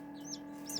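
A newly hatched Serama bantam chick gives two quick high peeps, one soft and one a bit louder, against a quiet indoor hum.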